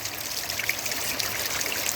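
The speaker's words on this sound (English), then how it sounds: "this is spring water right here" Fresh spring groundwater trickling steadily at close range, a continuous bright burbling with no pauses.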